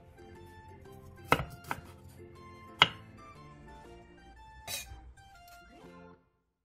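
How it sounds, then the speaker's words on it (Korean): A few sharp knife chops on a cutting board, cutting broccoli into bite-size pieces, two distinct loud strikes and softer cuts, over quiet background music. "브로콜리 반 개는 한입 크기로 잘라주세요"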